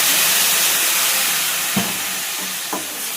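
Tamarind pulp hits a hot pan while making tamarind rice, giving a steady, close sizzling hiss with a couple of soft stirring knocks.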